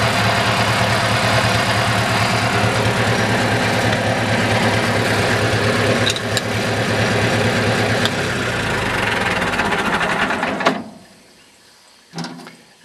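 A Farmall Super MTA tractor engine idles on gasoline with a steady, loud, close rumble for about ten seconds, then is shut off, leaving near silence broken by a brief clunk.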